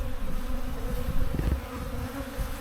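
Honey bees buzz in an opened hive during a first inspection after unpacking, a steady close drone with a few louder swells as bees move past, with no talking.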